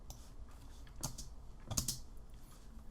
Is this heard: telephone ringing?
no